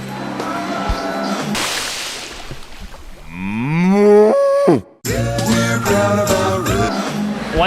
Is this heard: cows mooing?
yes